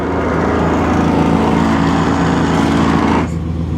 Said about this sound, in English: It made a horrible noise though when I turn these lights off.